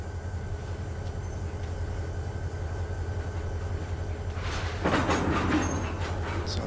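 Freight train slack running in within a railroad simulator game: a steady low rumble and clatter of rail cars, rising into a louder burst of metallic clanking near the end.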